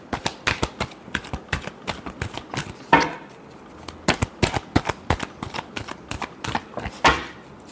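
Tarot cards being shuffled by hand, heard up close as quick riffling bursts and sharp flutters in an irregular rhythm, with a couple of louder snaps, and no talking.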